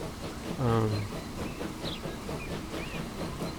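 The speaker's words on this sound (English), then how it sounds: "here comes one of the oil trains, one of the refinery trains with fuel oil" An oil refinery train carrying fuel oil in the game Transport Fever rolls past, a steady rumbling hiss with a brief low horn-like tone near the start and faint higher whistles after.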